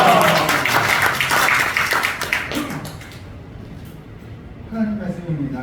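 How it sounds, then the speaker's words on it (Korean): A church congregation at a men's fellowship morning service applauds to welcome a pastor to the pulpit; a dense burst of clapping fills the first three seconds, then fades to quiet before a voice begins speaking. "큰 박수로 환영하시겠습니다."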